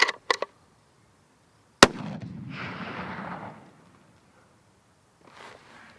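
Weatherby Model 307 Alpine CT rifle fired at a local range: two quick sharp reports at the start, then one loud close shot followed by a long rolling echo, with a faint later rumble.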